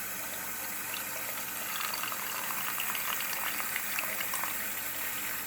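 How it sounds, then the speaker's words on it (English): Hydrogen peroxide poured from a bottle, a steady fizzing, trickling liquid sound that runs the whole time at close range with no talking. "I'm going to pour the peroxide in."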